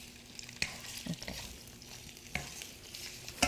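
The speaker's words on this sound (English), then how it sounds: "You just frying without anything. Yeah, just on the oil frying." Shrimp fry in plain oil in a pan, giving a quiet sizzle with a few sharp clicks and scraping stirs scattered across a few seconds, with no voices.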